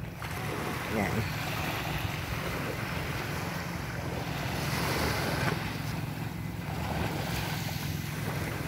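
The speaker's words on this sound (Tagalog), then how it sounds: "Maririnig niyo ang pagaspas ng tubig." Waves wash and splash steadily along a beach with a boat nearby, under constant wind buffeting the microphone, while a person talks briefly over the sound.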